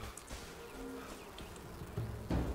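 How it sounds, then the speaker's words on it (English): Bees buzz softly in the Enshrouded video game, a faint wavering hum with light footsteps and small clicks over a quiet ambient background. "watch the bees. They always spawn in here."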